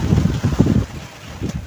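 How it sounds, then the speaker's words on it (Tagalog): Strong typhoon wind gusts in pulsing bursts of low, heavy microphone buffeting near water, dropping briefly to a quieter lull before rising again. "Malakas po yung hangin guys, baka tayo tangayin."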